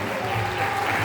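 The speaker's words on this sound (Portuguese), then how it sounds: "E a igreja aplaude bem forte a presença de Jesus, bem forte." A church congregation claps loudly in a dense, continuous burst of applause, brief and sustained with a low murmur beneath.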